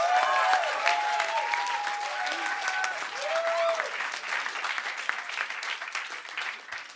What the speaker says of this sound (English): So please, a big round of applause for Muse VR.